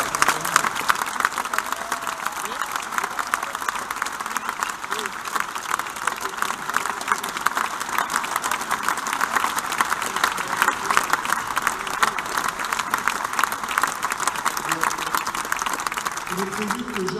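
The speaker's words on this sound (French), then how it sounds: "Je lui demande d'applaudir Jacques Brunel." A large audience applauds rugby coach Jacques Brunel at a team squad presentation, steady dense clapping from a big crowd that carries on at an even level for a long stretch, with faint crowd voices underneath.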